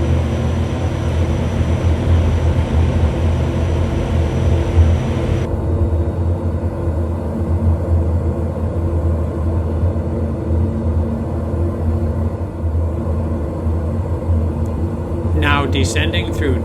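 A Pilatus PC-12 turboprop descends toward Lukla's Tenzing-Hillary Airport in winter, its steady loud engine drone and cabin rumble continuous throughout, with brief chirping electronic tones near the end.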